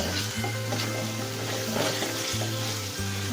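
Spice masala with turmeric powder and salt frying in oil for chicken bhuna khichuri, a steady close sizzle with soft stirring scrapes throughout, no talk.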